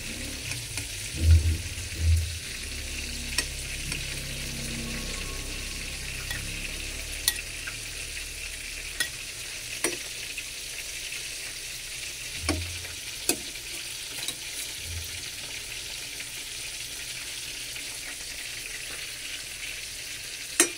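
Carp simmering in a pan for paksiw, a soft steady sizzle and bubbling heard close up with occasional spoon-against-pan knocks and stirring, no voices.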